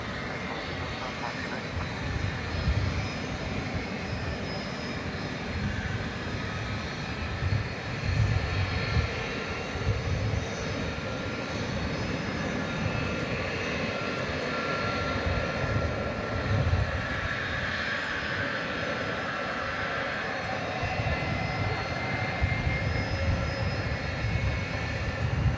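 Airliner jet engines at DFW Airport produce a steady, broad roar that drones on without a break, holding at a constant level throughout with no clear voices.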